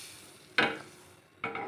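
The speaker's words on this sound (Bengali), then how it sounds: "এই যে আমি বাটার দিয়ে দিয়েছি" Butter spread in a frying pan on a gas stove: a faint background sizzle broken by two short, louder scraping strokes about a second apart.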